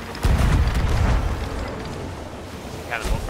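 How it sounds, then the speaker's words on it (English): A cannonball fires and bursts in a pirate video game with a loud booming blast that rumbles and slowly fades over a couple of seconds, followed by a brief voice near the end. "Cannonball, great."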